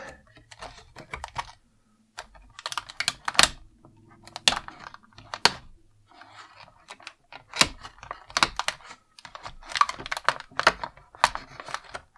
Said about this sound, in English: There are some of these clear rubber bands holding the figures in, so we'll go ahead and slice those open.